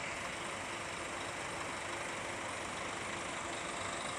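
A Rapi tronton bus idles at a depot in Palembang, a faint, steady low diesel rumble under a broad hiss, unchanging across a few seconds.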